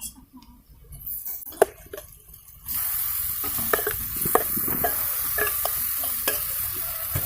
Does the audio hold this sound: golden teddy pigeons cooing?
no